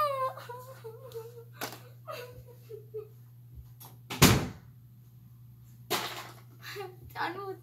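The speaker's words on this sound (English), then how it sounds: "Bella, shut the door, Bella." A door slams shut with a sharp, loud thud midway, amid indoor voices, whimpering and giggles, with a second knock-like bang shortly after over a constant low electrical hum.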